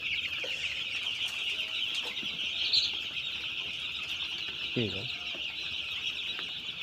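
Broiler chicks in a winter brooding house cluck and chatter together continuously, with a shrill high-pitched chorus over the whole stretch and a brief voice speaking.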